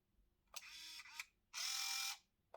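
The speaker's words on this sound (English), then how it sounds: "you've got a counter that lets you know how long are you pressing the shutter for" A Samsung Fino 700s film camera's shutter whirs and clicks twice in bulb mode, close and alone: a buzzy mechanical run of about half a second, then a louder, longer one.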